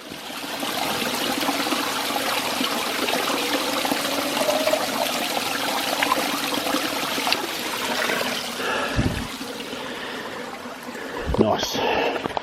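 A mountain stream on a New Zealand hiking trail gives a steady, broad rushing trickle of water close by, continuous throughout, with a few brief knocks near the end.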